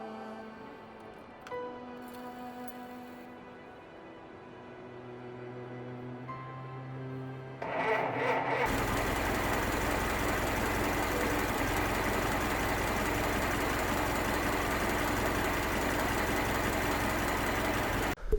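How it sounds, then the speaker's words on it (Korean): A 1923 Ford Model T starts up: a few quiet mechanical clicks and cranking sounds, then the engine catches with a sudden loud roar and settles into a steady, close running idle until the end. "자동차 대중화를 선도한 1923년식 포드 모델2의 시동 소리를 들으면서 이번 어메이징 클래식카를 마치겠습니다."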